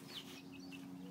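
Soft clucking from a chicken, faint and steady over a low background hum, no voices.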